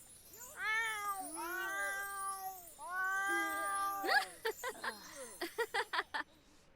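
In The Sims 4 video game, a cat gives long, wavering meows and yowling caterwauls, loud and near. Then comes a quick run of short, sharp clinking or jingling bursts.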